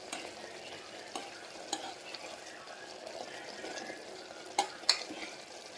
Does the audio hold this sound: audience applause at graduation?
no